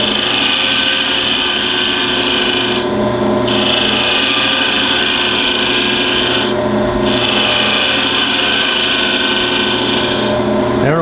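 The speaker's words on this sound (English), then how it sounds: "Continue to use the carbide tip cutter to rough shape it in." A carbide tip cutter rough-shapes a colored pencil bottle stopper on a wood lathe, a loud continuous scraping rasp that runs throughout with two brief dips.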